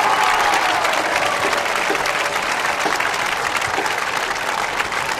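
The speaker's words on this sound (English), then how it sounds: "Let's give him another round of applause." Crowd at a marching band festival clapping and cheering in a loud, continuous burst that stays steady and tapers only slightly over a few seconds.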